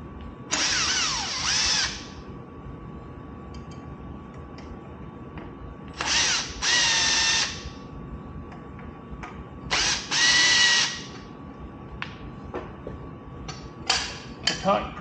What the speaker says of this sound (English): we'll take these 4 Phillips screws out and expose the controller.